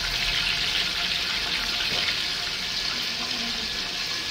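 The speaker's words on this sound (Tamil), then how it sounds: "இந்த இங்கே அடுப்புக்கு நேராக தண்ணி கொட்டுது" Water from a roof leak splashes and pours steadily onto a kitchen stove in a continuous hissing stream, close and fairly loud throughout.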